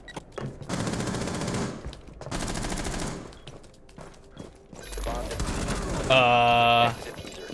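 Gunfire in Rainbow Six Siege crackles in several sustained bursts, loud and close, separated by short gaps, with a sharp electronic game tone near the end.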